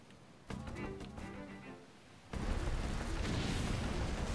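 Bombs going off in The Legend of Zelda: Link's Awakening produce a burst of dense crackling blast noise, then a louder, sustained rumbling explosion that fills the rest of the moment.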